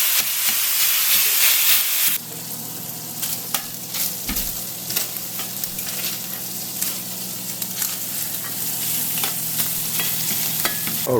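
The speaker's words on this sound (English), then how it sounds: "Listen to that sizzle." Chicken sausage links sizzle steadily in a hot pan, a dense continuous frying hiss with occasional crackles and stirring scrapes, close and fairly loud, with no talk over it.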